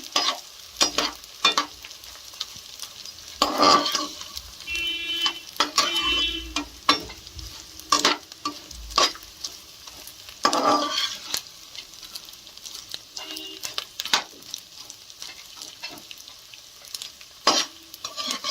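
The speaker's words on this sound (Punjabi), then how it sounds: "ਇਸ ਲੋ ਗੈਸ ਤੇ ਕਰਨੀ ਹੈ ਫਰਾਈ ਬਹੁਤ ਛੇਤੀ ਹੋ ਜਾਂਦੀ ਹੈ" Gentle frying of edible gum in ghee over low gas, with intermittent stirring and scraping, some bursts louder than others, close by and without speech.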